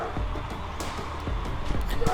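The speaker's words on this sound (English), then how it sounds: "Sorry about the dog in the background." A dog barks a few times in the background, faint and intermittent behind a mobile shooter game's sound effects.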